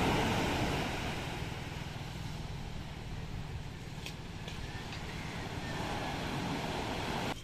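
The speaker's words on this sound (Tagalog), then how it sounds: "Malalaking alon." Big ocean waves roar as a steady, broad surf wash near the shore, with wind buffeting the microphone throughout.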